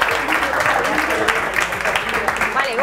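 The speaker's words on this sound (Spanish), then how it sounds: "Vale, un aplauso." Applause from a studio audience of secondary-school students at a university show in Spain, a dense, steady wash of clapping lasting throughout with voices talking over it.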